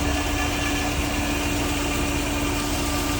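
A large, high-horsepower farm tractor stands idling near a feed plant, its engine holding a constant, close, droning hum with a faint vibrating edge and no change in pace.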